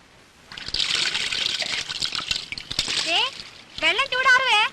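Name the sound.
bath water being poured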